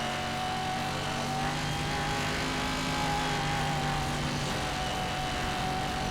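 In Need for Speed Hot Pursuit, a car engine holds a loud, steady high-revving drone under nitrous boost, with a whine that rises slightly and then settles.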